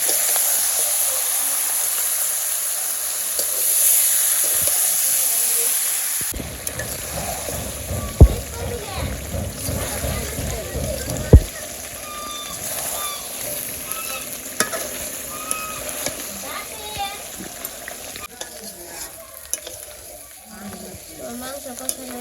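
Meat frying and being stirred in a pan of hot oil with bay leaf and cumin in a village kitchen, a steady close sizzle with scraping stirs and a few sharp knocks against the pan, low background voices at times.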